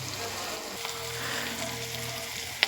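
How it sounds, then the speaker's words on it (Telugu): Vegetables for upma frying in hot oil in a pan, a steady soft sizzle with a faint low hum underneath and a brief clink near the end. "ఇవి వేగుతూ ఉంటాయి"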